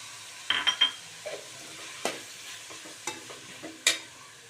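Onions sizzle softly in a pan, with a few clinks and scrapes of a utensil stirring them; no one speaks.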